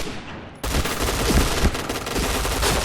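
A P90 submachine gun fires in the shooter game Point Blank. After a short quieter lead-in comes a loud, rapid stream of automatic gunfire with clustered shots, heard up close and without speech.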